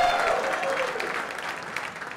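Audience clapping at a startup community event, a short, moderate burst of applause from a modest crowd that thins out quickly.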